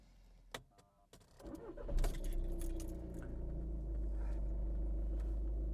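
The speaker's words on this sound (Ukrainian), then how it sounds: "Перший запуск дизельного двигуна на холодну." Cold start of a 2012 Skoda Octavia A5 diesel engine with about 345,000 km on it: keys jangle, the starter cranks briefly, and the engine catches and settles into a steady, loud clattering idle close by.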